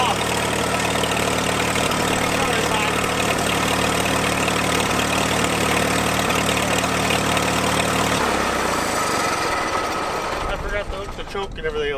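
Old abandoned tractor engine with a five-speed gearbox running, a loud, steady, rough mechanical chug close by that cuts out and fades near the end.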